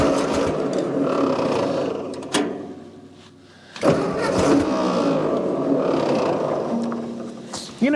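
A Ford 2N tractor engine cranks with the fuel turned off, giving a loud, sustained churning roar that drops out briefly near the middle and then resumes, close by with no speech.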